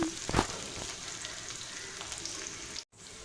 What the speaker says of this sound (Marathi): कांदा हा चांगला आपण परतून घेणार आहोत जोपर्यंत लाल सर रंग येत नाही आपला कांद्याला